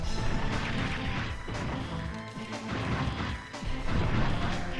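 Missiles explode in Mega Man Legends, a dense run of loud, close crashing blasts and smashing impacts that overlap one another with brief dips between bursts, no talking.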